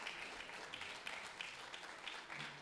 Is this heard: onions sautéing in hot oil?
no